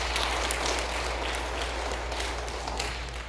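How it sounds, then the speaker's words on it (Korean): A church congregation applauds after a small group's musical performance at a Sunday worship service, steady sustained clapping filling the room at an even level for the whole span, with no talk over it. "우리 격려의 박수를 부탁드리겠습니다."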